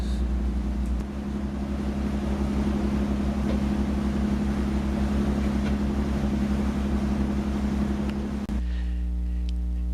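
A boat motors away from its mooring toward open water, its engine a steady close low drone and rumble that drops off abruptly near the end, leaving quieter background noise.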